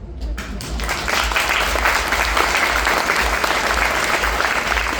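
Sustained applause from a Q&A panel audience in Vilnius, a dense wash of clapping that rises after a brief start and holds steady and loud throughout.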